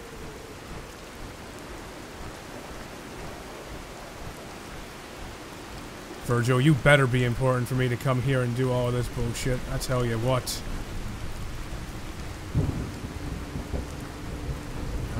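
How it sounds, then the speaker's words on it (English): A radiation storm in Fallout 4 brings a constant wash of rain with low thunder rumbles, while someone talks over it partway through. "Oh, is this a radiation storm I'm in right now?"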